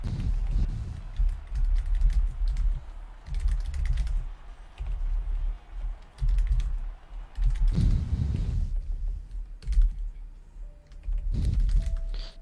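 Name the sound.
keyboard key taps and mouse clicks on a desk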